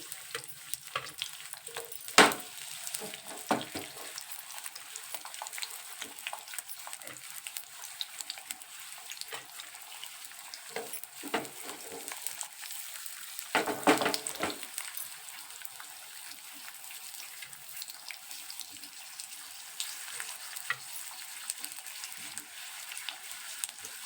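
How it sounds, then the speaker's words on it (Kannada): Potato fries cooking in hot oil for a quick homemade snack: a faint, continuous bubbling sizzle with occasional sharper crackles and stirring clatters, low in level and without talk. "ನೋಡಿರಿ ಹಿಂಗೆ ಕುದಿಯಾಕತ್ತಾವು ಎಣ್ಣೆಗೆ ಬೇಯಾಕತ್ತಾವು"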